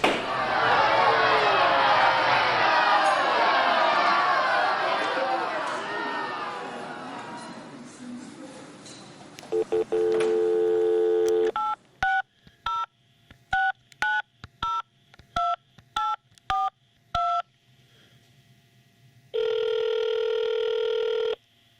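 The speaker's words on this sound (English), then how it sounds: "Roll the whistleblower phone call." A telephone call opens with a burst of noise and crowd, then a series of distinct DTMF keypad tones dialed one after another, each short and clear, ending in a longer steady ringing tone; loud and close.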